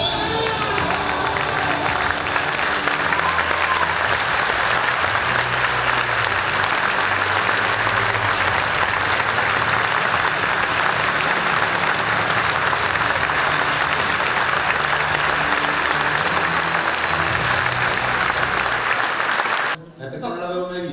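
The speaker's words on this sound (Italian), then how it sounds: "grazie del caloroso applauso del benvenuto" An audience in a hall gives warm, sustained applause of welcome for high jumpers Gian Marco Tamberi and Mutaz Barshim, a dense steady clapping with some cheering that cuts off abruptly near the end.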